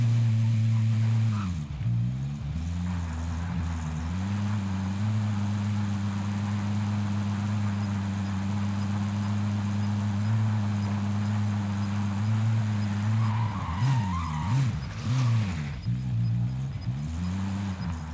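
A car engine drones steadily while driving in a battle royale video game, with a continuous hum whose pitch wavers and surges near the end.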